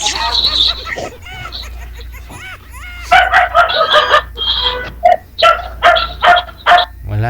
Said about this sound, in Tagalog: sa maingay yung aso natin